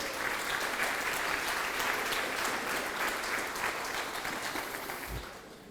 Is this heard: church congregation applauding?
yes